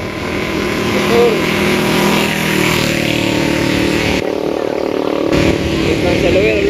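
A motorcycle ridden at night along a downhill rural road, its engine droning loud and steady up close with wind rush, while a voice talks over it.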